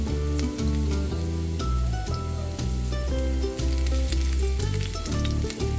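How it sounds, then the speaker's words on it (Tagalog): Garlic sautés in a pan with a loud, constant crackling sizzle, while tonal background music plays throughout. "Sa una, naggisa lang ako ng bawang."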